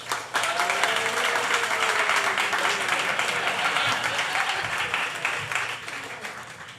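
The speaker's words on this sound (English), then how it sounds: "A very raucous crowd." A raucous crowd at a live Bitcoin debate applauds and cheers as a debater takes the stage, loud dense clapping with shouts and murmuring voices, tapering off toward the end.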